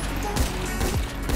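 Rapid gunfire in GTA 5 aimed at police officers, sounding as several loud, sharp bursts of shots close together over steady game noise.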